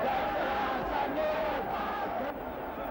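An angry crowd surrounds a politician at the funeral of the Pan African Congress leader, a dense, continuous roar of many voices shouting at a steady level.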